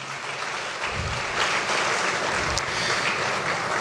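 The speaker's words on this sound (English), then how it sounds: "Please let the applause be louder." An audience at an International Women's Day gathering led by the First Lady breaks into sustained applause, a thick, even roar of clapping that swells slightly partway through.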